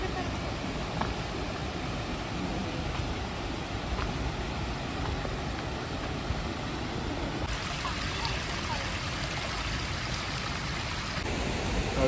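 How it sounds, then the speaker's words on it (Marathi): Dabosa waterfall in Jawhar, Maharashtra, roaring as a steady broadband rush of falling water that stays loud and constant throughout, with voices talking faintly beneath it. "मग तुम्हाला दाखवतो दाबोसा वॉटरफॉल"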